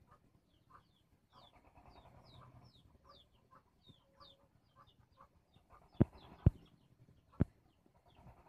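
Several rooster crows from a red junglefowl, repeated calls at moderate distance with soft clucking and a few sharp knocks near the end.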